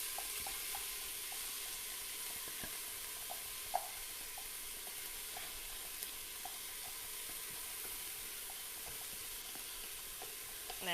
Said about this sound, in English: and then my onions are going to go in